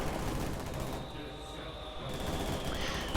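PPSh submachine guns fire during a video game battle, dense bursts of rattling gunfire layered with explosions, continuous and loud under a commentating voice.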